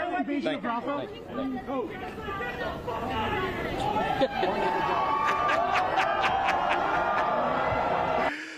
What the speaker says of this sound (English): This is the crowd's reaction to Mike Johnson.